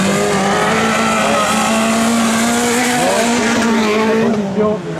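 Autocross race cars, among them a white Peugeot 106, roar past close and loud with strained engine notes and tire noise. The engines rise and fall in pitch, the sound fills the whole stretch, and a voice comments underneath.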